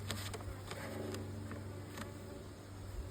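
Bees buzz around a hive with freshly added frames as a storm approaches, a faint continuous drone with occasional sharper passes of individual bees close by.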